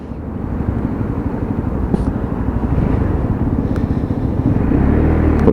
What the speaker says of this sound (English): Plenty of test mileage on the bike.